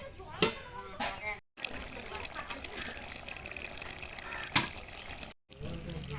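Water pours into a pan of prawn and green jackfruit curry, a close liquid splash and trickle running most of the stretch, broken by two brief silent gaps, with a few sharp knocks at the start.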